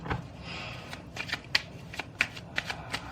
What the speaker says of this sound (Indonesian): aku shuffle dulu kartunya